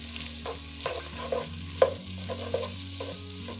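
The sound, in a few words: onions frying in hot oil for Hungarian goulash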